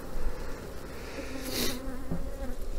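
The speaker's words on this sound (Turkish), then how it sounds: "Arkadaşlar mümkün olduğu kadar arıları ezmeyelim." Honeybees in an opened hive buzz in a continuous close drone, steady and moderately loud, with a brief sharper rustle partway through and no talk.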